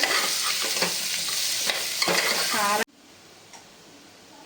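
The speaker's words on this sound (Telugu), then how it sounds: "ఇప్పుడు బాగా కొంచెం ఫ్రై చేసుకోవాలి బాగా ఫ్రై చేసుకోవాలి" Carrots frying in a pan with a loud, dense sizzle and stirring scrapes, a voice talking over it, then a sudden drop to quiet low hiss.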